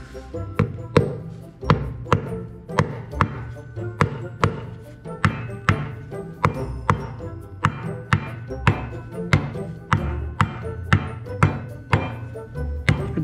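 Steady series of sharp metallic hammer blows, roughly one per second, as a seal is driven into a Kubota M4900 tractor wheel hub, close and loud with a slight ring after each strike.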